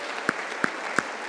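A church congregation applauds during a sermon, a soft steady patter of many hands. Three sharper, louder claps stand out at regular intervals above it.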